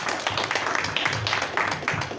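Audience hand clapping at a church conference in Archdale, North Carolina, a brief, fairly faint patter of claps from the room.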